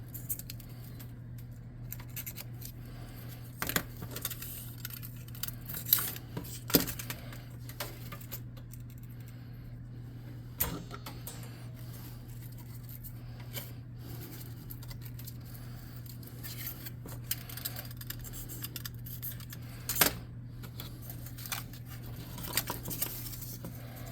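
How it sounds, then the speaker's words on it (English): Scissors snipping through terrain material while building sunken-ruins scatter terrain for a tabletop RPG, heard as faint, scattered cuts and small rustles in a quiet room with no talking. "we want to cut a piece here to fit in this back corner"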